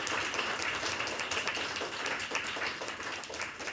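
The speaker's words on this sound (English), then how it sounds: "Let's give them a round of applause" An audience at a local candidates debate in Sault Ste. Marie claps steadily but faintly, a brief round of even applause with no talking over it.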